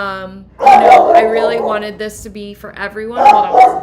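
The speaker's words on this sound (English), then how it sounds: "You might hear him barking as well." A small puppy barks and yips close by in a home, its brief bursts mixed into a person's ongoing talk.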